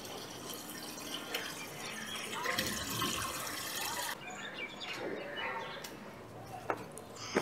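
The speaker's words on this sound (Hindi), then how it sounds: "तो पानी मेरे को 2-3 टाइम भरना पड़ता है।" Water splashes and gurgles as it is filled into containers in a village home, a noisy continuous rushing with some drips and clatter, and faint birds in the background.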